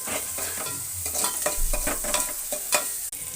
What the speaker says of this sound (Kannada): ಸ್ವಲ್ಪ ಈರುಳ್ಳಿ ಹಾಕ್ತಾ ಇದ್ದೀನಿ. ಹಾಗೇನೆ ಚೆನ್ನಾಗಿ ರೋಸ್ಟ್ ಆಗಬೇಕು.